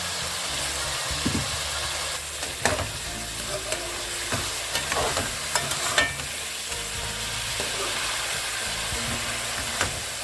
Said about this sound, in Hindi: और अभी हाई फ्लेम पे इन सबको अच्छे से भूनेंगे हम।